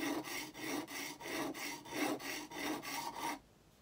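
A hand tool is sharpened against an abrasive, making about ten rhythmic rasping strokes up close at a steady pace before stopping abruptly into near silence.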